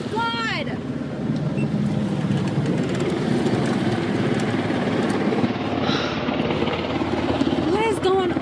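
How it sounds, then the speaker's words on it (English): A helicopter flies low over a campsite, a loud continuous rotor roar that dominates throughout, with brief whistling tones at the start and end. "This helicopter just flew in and knocked over everything."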